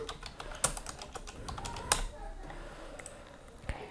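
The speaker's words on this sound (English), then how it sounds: "I'm typing here privacy policy." Rapid clicks of typing on a computer keyboard, irregular keystrokes with a few sharper taps, fairly quiet and close.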